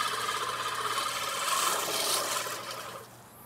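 A cheap Amazon lawn mower rolls over a stick on a lawn, giving a steady broadband rasping, rubbing whir with a low motor hum, loud and close, fading slightly near the end.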